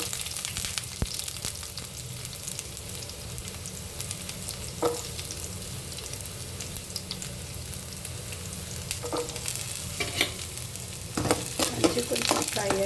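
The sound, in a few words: onions frying in oil with cumin and curry leaves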